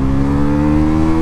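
A Bajaj Pulsar NS 400Z engine holding high revs in second gear, a loud steady buzzing drone with strong even tones, close and continuous over a short stretch, with no talk.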